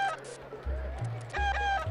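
Cartoonish chicken clucks and squawks from the video game Secret of Evermore, several short bursts in quick succession over a low droning game background, loud and close.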